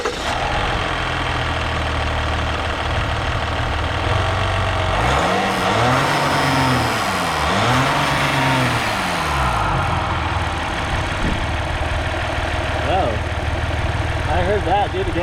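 A Jeep Grand Cherokee EcoDiesel with an Injen intake and a baffle-delete exhaust cranks, catches and settles into a steady diesel idle, heard close up, with a few small revs as someone talks nearby.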